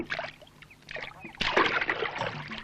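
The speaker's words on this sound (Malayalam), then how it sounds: "ഞാൻ തുഴയാം" Paddle strokes rowing a wooden boat across water: soft splashes and dripping in uneven strokes, quiet and near, growing a little busier toward the end.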